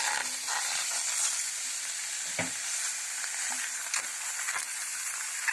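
Steady loud sizzling of meat searing in a hot pot while making Turkish et kavurma, with occasional clicks and scrapes over the continuous crackle.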